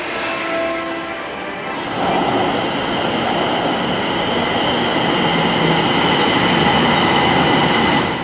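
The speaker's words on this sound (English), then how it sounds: "So we are currently waiting at Wood Street for a red line train" A Pittsburgh light rail Red Line train rolls into the underground Wood Street station, a loud, steady rumble with wheel squeal building and holding alone for several seconds.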